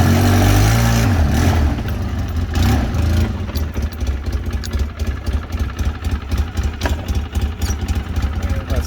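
A 2006 Polaris Sportsman 600 ATV engine runs close by, loud and rough at first, then settling into a pulsing, throbbing idle with a brief clunk of the gear shift.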